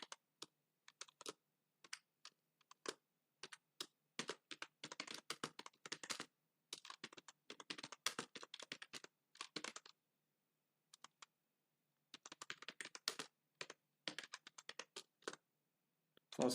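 Rapid typing on a computer keyboard while writing code, bursts of crisp key clicks separated by short pauses, close and clear with no talking.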